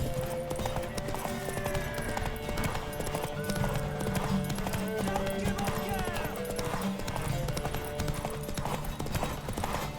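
A horse gallops in The Witcher 3 video game. The hooves strike in a steady, rapid clip-clop rhythm throughout, and a few faint whinny-like tones sit under the game's background sounds.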